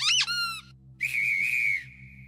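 A toy bedroom light on a children's show set gives off electronic whistle effects: a warbling rising-and-falling tone, a short pause, then a longer steady whistle that slides down and fades out.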